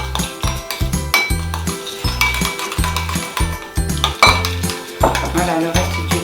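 A spoon stirs mustard into plant milk in a bowl, a rapid run of repeated clinking scrapes against the dish in an uneven rhythm, close and clear with no talking.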